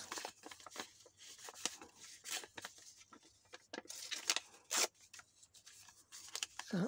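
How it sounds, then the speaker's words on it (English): Torn scraps of paper are shuffled by hand like a deck of cards, giving soft irregular rustles and flicks, close and quiet, with a few sharper crisp bursts. "I'm just going to shuffle them like, there you go, like a deck of cards"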